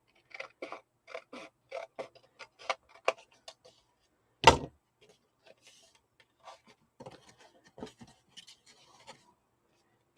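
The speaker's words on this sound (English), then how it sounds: "I'm going to put these together. And I'm going to try to cut them together." Scissors cutting through several stacked paper pages at once, a run of close, evenly spaced crisp snips, one sharp louder clack midway, then slower scattered cuts with quiet pauses.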